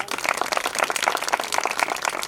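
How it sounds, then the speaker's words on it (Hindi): A church congregation applauding loudly during a sermon, dense rapid clapping from many hands sustained at full volume throughout. "उसके लिए एक दफा जोरदार ताली बजाए"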